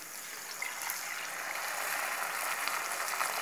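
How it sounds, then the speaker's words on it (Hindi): Mutton stock poured into a pan of quail curry, a soft steady hissing sizzle and bubbling with light crackles, faint and continuous. "यहाँ पे मैं मटन का जो पानी है वही डाल रही हूँ,"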